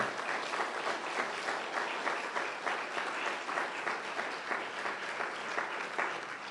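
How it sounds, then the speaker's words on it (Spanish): A church congregation claps together in sustained, steady applause that fills the room at an even level from start to finish, with no voices standing out above it. "Aplaudan al Señor"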